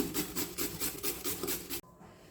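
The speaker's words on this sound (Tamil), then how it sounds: "கொஞ்சமாக கேரட் வந்து துருவி போட்டுக்கிடுங்க" Carrot grated for a bread snack, a steady rhythmic rasping of repeated strokes, close and fairly loud, stopping abruptly near the end.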